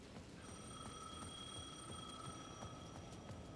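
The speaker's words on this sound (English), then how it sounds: "The payphone at the edge of the plaza was ringing again." A payphone rings steadily in Alan Wake 2, its electronic bell tones repeating in even bursts over a low, constant ambient rumble, fairly faint and with no voices.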